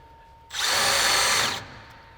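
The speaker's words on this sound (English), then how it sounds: "come back with a pilot bit, drill it through" A power drill with a pilot bit whirs loudly for about a second as it bores through material on a 1969 Dodge D100 truck, then cuts off into quiet.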